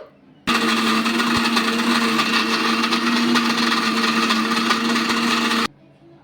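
A mixer grinder grinding henna leaves whirs loudly for about five seconds, grinding steadily, then cuts off abruptly into quiet.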